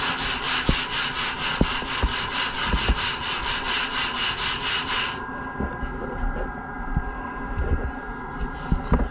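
Wooden board being trimmed to shape by hand, a steady rhythmic rasping of sawing or planing strokes, close and clear, that gives way after about five seconds to quieter scattered scraping and knocks.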